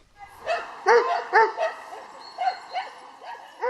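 Dogs at a canicross trail-running event bark and yip excitedly in a quick series of close, loud, high-pitched barks, several overlapping in short bursts.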